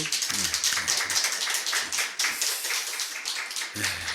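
A church congregation claps during a Sunday afternoon service in Geumcheon-gu, giving a dense, steady patter of many hands over about four seconds, with a few brief voices rising underneath near the start and end.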